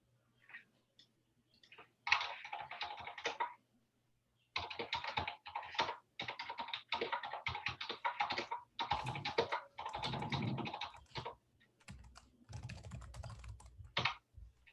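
Fingers type on a new computer keyboard in bursts of close, crisp key clicks, pausing briefly between runs, with no talking.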